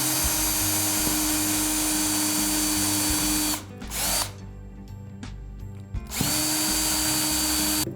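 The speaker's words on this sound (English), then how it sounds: "just quickly drill these holes through" A power drill drills holes through a wooden pallet board, running loud and steady, stopping briefly as it bites through the wood, then whining on again at full speed.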